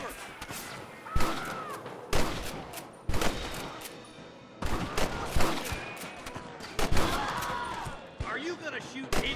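Gunfire in a Wild West shootout against cattle rustlers in the video game Red Dead Redemption: repeated sharp bursts of shots and impacts at irregular intervals, loud and close, with game voices talking in between.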